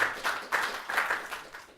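Brief applause from a conference audience after a talk on electric vehicles and hydrogen, a short patter of clapping that rises and fades in a few waves.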